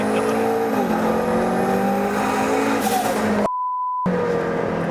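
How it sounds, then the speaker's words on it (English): A 1200 hp triple-turbo McLaren engine roars at sustained high revs, its pitch holding and stepping slightly as it bumps the boost limiter, with a short electronic beep partway through. "That is the boost limiter."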